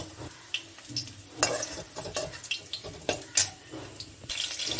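Jackfruit frying in mustard oil crackles in a close pan, with irregular stirring clatter and bursts of spattering over a soft sizzle.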